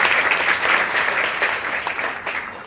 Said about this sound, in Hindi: इनके सम्मान में भी एक जोरदार ताली बजाएं